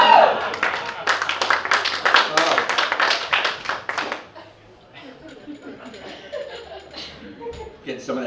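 A comedy club audience in Memphis claps and laughs loudly for about four seconds, a dense burst of applause with chuckles that cuts off abruptly, followed by quiet room murmur and scattered sounds.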